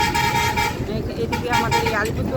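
A bus horn toots repeatedly while the bus drives through Buxa forest in Alipurduar. The loud, tonal honks sit over engine rumble, with a voice talking nearby.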